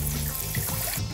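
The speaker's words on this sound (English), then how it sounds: "To that, 600 ml of cold water." Cold water poured into a pot holding a cup of white rice, a short steady close splash and trickle heard alone.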